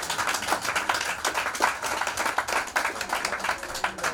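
A church congregation breaks into steady applause, many hands clapping together in a dense, continuous patter for a few seconds, with no voices rising above it.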